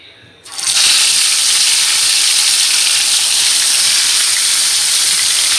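Fish coated in turmeric and salt frying in hot oil, a loud steady sizzle that bursts in abruptly and holds at full strength, close up.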